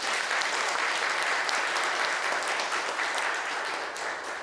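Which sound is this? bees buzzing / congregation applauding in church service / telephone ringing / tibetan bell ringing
congregation applauding in church service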